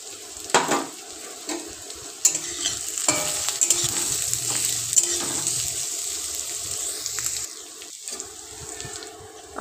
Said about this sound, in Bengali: তেল গরম হয়ে গেলে তাতে দিয়ে দিলাম পেঁয়াজ কুচি, কুচনো আদা